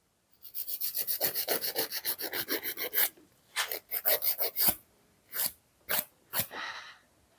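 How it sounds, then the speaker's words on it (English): A nail file rasps across a natural fingernail to shape and length: a fast run of even, close strokes for about three seconds, then shorter separated bursts of filing with brief pauses between. "file 90 degrees to my nail. And filing my shape and length"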